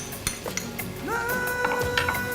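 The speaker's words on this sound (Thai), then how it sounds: "ผัดเครื่องแกงแล้วก็พริกแกงนะคะให้เข้ากัน" Red and yellow curry paste stir-fried in oil in a pan, a metal spatula clinking and scraping against the pan in quick, close taps, with a few higher ringing tones in between.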